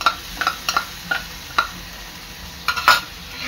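Spice paste being stirred and fried in hot oil with turmeric, for a wild-vegetable bhaji: a soft steady sizzle broken by repeated sharp scraping clinks of the spoon against the pan, close by, with no talking.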